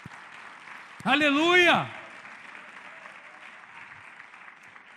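A church congregation claps steadily through a sermon, a soft, even patter of hands throughout, briefly covered by a loud shout from the preacher.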